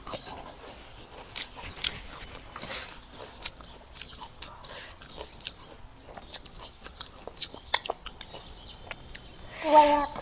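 Mouth-close chewing and crunching of bamboo shoot curry, with irregular soft bites and smacks spread through the stretch, faint background voices under it.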